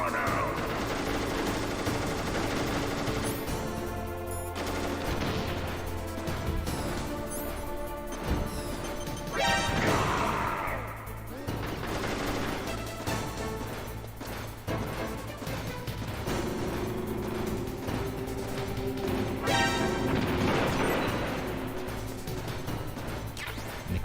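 Nikita missile combat in Metal Gear Solid brings repeated loud crashes and blasts, with bursts of gunfire-like impacts, over sustained tonal game music.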